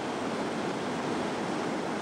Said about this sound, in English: It's probably like where the ocean joins with the river.